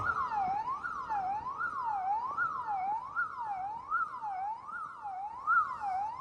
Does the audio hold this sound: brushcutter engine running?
no